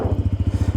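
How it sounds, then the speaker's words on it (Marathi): A motorcycle engine putters close by, a quick regular beat of low pulses from the idling bike heard on its own. "So let start the bike."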